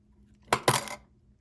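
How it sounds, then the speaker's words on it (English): Dice rattle and clatter in two quick bursts on a tabletop during an APBA baseball board game, a brief close sound against a quiet background. "Wrong dice. We've got to make sure you use the right dice."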